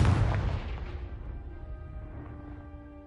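A Confringo blasting spell explodes in the Hogwarts Legacy video game: one loud, close boom that opens the clip, then a long rumbling, ringing tail that fades slowly. No one speaks.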